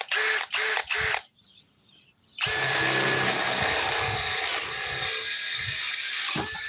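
A compact drill driver with a 4 amp battery whirs in a few short bursts, goes quiet, then runs steadily in speed 2 at a high whine for several seconds before stopping.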